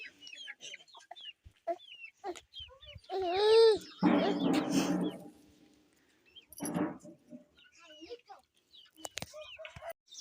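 Hens cluck and squawk nearby in short bursts on a farmyard, with a loud rising crow-like call in the middle and a person talking in between.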